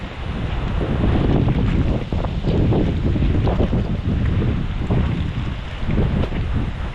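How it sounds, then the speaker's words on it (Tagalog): Strong wind roars and buffets the microphone continuously at a hut, with a rumbling gusty texture and faint water sounds underneath. "Ayan ang hangin dito."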